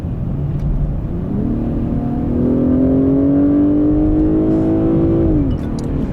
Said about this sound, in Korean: 이거를 만약에 주행 모드에 따라 스포츠 모드를 놓고 밟으면은